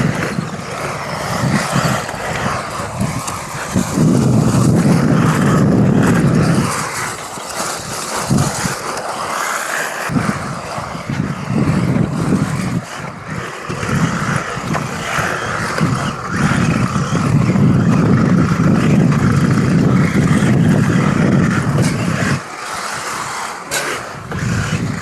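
An RC rally car races on gravel inside a large indoor arena, its motor whining loudly and continuously with surging revs and brief dips, the sound filling the space throughout with no talk.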